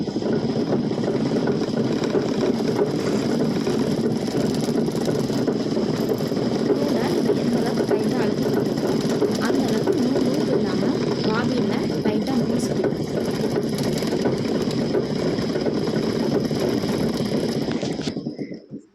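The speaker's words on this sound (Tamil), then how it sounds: "கீழே பெடல் அழுத்தும் போது இந்த பாபினில் நூல் சுற்றும்" A sewing machine winds thread onto its bobbin while the foot pedal is pressed, a steady, close mechanical whirring hum that runs for nearly twenty seconds and then stops abruptly.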